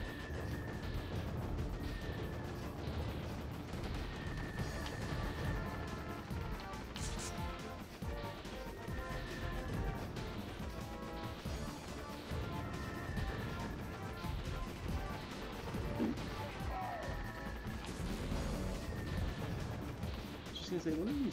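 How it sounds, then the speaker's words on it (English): Pink orbs firing at the player in the Heavy Weapon arcade shooter: a dense, continuous barrage of blasts and crashes with steady game music, loud throughout and with no pauses. "what are these pink orbs firing at me?"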